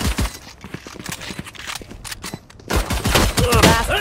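Rapid bursts of video game gunfire crack out in quick clusters, loud and close, with a denser volley near the end during a 4v5 round.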